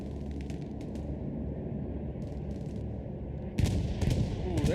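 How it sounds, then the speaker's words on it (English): Bombing-run explosions in the World War II shooter Hell Let Loose, deep rumbling blasts under a constant low battle drone, with a sharper burst of impacts near the end and faint voices in the mix. "Ooh, there's a bombing run indeed."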